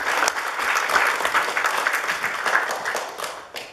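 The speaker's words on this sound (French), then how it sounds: "J'aimerais qu'on les applaudisse." A festival audience applauds the sponsors, with dense, steady clapping from a sizable crowd that fades slightly toward the end.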